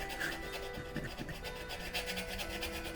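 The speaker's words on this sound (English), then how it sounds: "So we're just burnishing down all the tops, just like a sandpaper textured surface here, making that lighter." A tool is rubbed back and forth over a printmaking plate to burnish its textured, sandpaper-like surface, giving a close, rhythmic scraping with quick irregular strokes and no talking.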